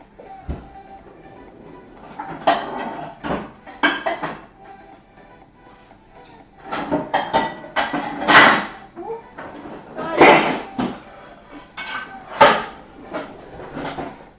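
Clattering of a pan with butter in it and kitchen clanks in bursts, with a voice talking intermittently between the knocks.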